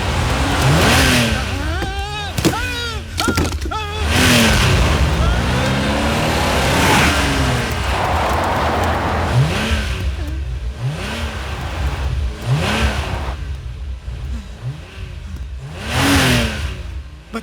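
Car engine revving in a Hindi action film scene, a steady mid-pitched motor drone running throughout beneath loud, overlapping dialogue and shouting.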